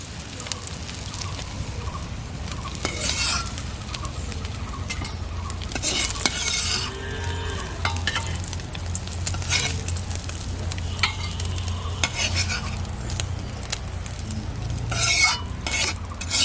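Eggs fry in a pan for a pointed gourd and egg curry, a steady close sizzle with repeated scraping and clinking of a utensil against the pan as they are lifted out.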